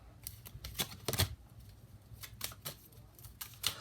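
Quick crisp riffling bursts of playing cards being shuffled, several rapid flutters close by with brief pauses between them.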